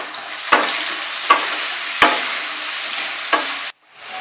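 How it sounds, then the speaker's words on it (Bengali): Ridged gourd frying over a high flame with turmeric and salt, a loud steady sizzle broken by four sharp stirring clacks of a spatula against the pan, then a sudden cut to near silence. "এবার হাই ফ্লেমে আমি ঝিঙেটাকে ফ্রাই করব"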